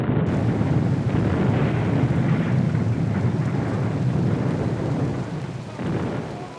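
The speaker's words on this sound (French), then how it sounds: "Ici, l'équipe de montage a dû faire avec la pluie." Steady heavy rain with low rolling thunder rumbling throughout, a dense constant wash of sound that eases slightly near the end, with no voices.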